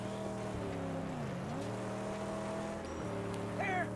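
A car's engine in the Mad Max video game, droning steadily with rising and falling revs as the nitro turbo kicks in, with a brief whine near the end; close and continuous.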